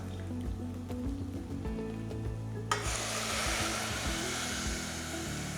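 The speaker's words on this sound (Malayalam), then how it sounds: "നമുക്കിതിനകത്തേക്ക് ചൂട് വെള്ളം ചേർക്കാം" Hot water poured into a pressure cooker of ghee rice, a steady hissing, sizzling rush that swells sharply midway and continues loud and close, with no talking.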